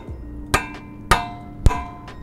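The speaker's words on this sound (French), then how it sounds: "Le cadenas ne bouge pas malgré les coups." Three sharp metallic hammer blows strike a steel handcuff-style padlock for a scooter or bike at roughly half-second intervals, each ringing briefly, close and fairly loud, with no talking; the lock holds.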